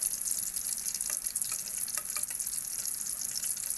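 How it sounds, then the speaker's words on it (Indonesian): Mung bean rempeyek crackers fry in a pan of hot oil, giving a steady, dense sizzle that crackles continuously and fairly close throughout, with no voices. "Lalu saya siramkan minyak yang panas di atas rempeyek supaya mudah lepas"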